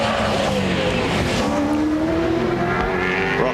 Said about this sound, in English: Braking hard for Forest Elbow, Larry Perkins, his constant shadow.